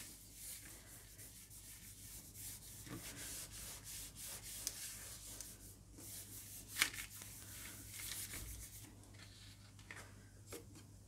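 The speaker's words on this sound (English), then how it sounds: "I am going to pull a print" Gel plate print pulled through a stencil, a soft continuous rubbing and peeling rasp of paper lifting from the plate, close and quiet, with a few faint ticks.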